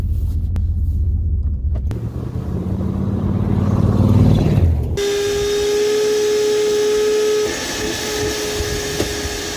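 A 1998 Chevrolet Silverado two-wheel drive pulls away and drives down a road. A loud, close engine rumble builds and rises in pitch, then shifts to a steady cruising drone with a whining tone and road noise, and no talking.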